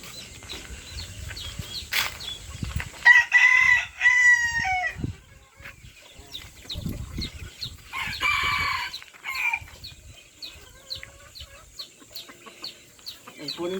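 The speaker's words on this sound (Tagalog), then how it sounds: "Ito po yung isa nating manok na panabong" A fighting rooster crows loudly up close, with scattered clucks and other fowl sounds around it and a brief voice in the background.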